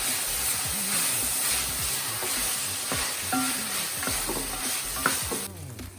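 Minced meat and peas fry in a pan for keema matar, a steady close sizzle with repeated scraping stirs of a spoon against the pan throughout.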